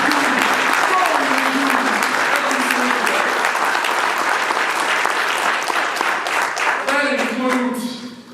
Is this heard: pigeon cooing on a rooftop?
no